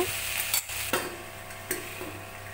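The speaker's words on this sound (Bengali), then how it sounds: "আমি লো আঁচে আমি ভেজে নিচ্ছি" Taro (kochu) frying in a pan over a low flame, a soft steady sizzle with a few brief louder stirring scrapes, close and alone without voices.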